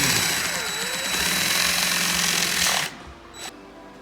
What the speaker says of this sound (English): Not fun drilling carbon, folks.